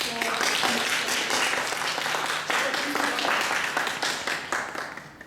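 Audience applause at an award presentation during a speech, a dense burst of clapping that holds strongly then gradually thins and fades toward the end, with some voices mixed in.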